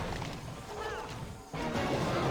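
Wall smashed during a base attack in the mobile strategy game Clash of Clans, a sharp crunching crash that cuts in after a brief lull, set among busy battle noise and game effects, with no voices.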